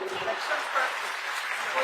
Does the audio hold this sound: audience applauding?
yes